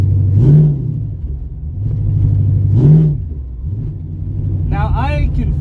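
A car engine in high gear at 1,500 RPM swells and eases in two slow, loud rumbling surges of revving, close up, with a brief higher whine near the end.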